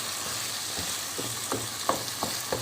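Chillies fry in a pan of softened tomatoes for pyaz keema, making a constant hiss with several soft stirring clicks toward the end, close and fairly quiet, without voices.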